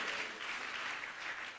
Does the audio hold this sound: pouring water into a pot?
no